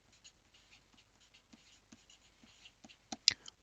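Pen writing on paper at close range, quiet scratchy strokes in short irregular bursts, ending with a few sharper, louder taps and scribbles.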